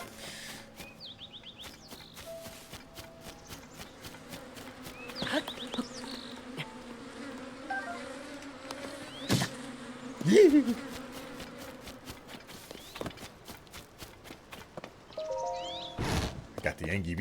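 Bees buzz in Zelda: Tears of the Kingdom as a steady, low insect drone that continues for the whole stretch, broken by scattered clicks and short game effects.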